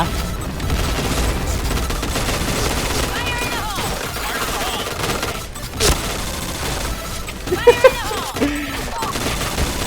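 Gunfire from a shooting video game crackles in rapid bursts and scattered single shots, with a few louder booms, while a player talks excitedly over it.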